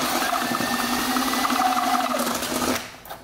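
An electric drill bores a hole with a progressively larger bit while building a 6V battery bank for a 12V livewell pump, a steady loud whine running nearly the whole time before cutting off near the end.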